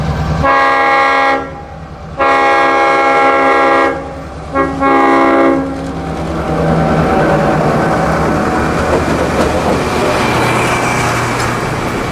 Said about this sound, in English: that big loud Leslie on the Clinchfield F unit